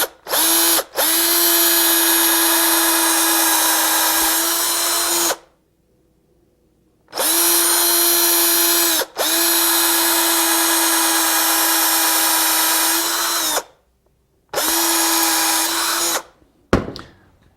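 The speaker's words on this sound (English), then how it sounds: "This is hard maple, so I'll need to pre-drill it." A power drill bores pilot holes into hard maple in three long, loud, steady whining bursts, each starting abruptly and stopping dead, with short silent gaps between them.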